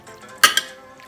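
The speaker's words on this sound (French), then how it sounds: "Je prends un peu de marinade comme ça et je mélange" Calamari being mixed with marinade in a bowl, heard as two quick clinks and scrapes of a utensil against the bowl in an otherwise quiet moment.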